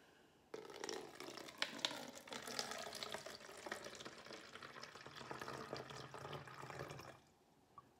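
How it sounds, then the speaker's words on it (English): A cup of water is poured through a funnel into a spray bottle, making a steady, soft trickling stream that starts abruptly, runs for several seconds at a quiet level and then stops. "So I'm going to pour that into my spray bottle."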